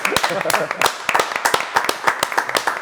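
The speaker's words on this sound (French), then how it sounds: "on l'applaudit quand même" A few people clap for a singer during a live segment of a French radio show, a brief scattered burst of hand claps mixed with talk throughout.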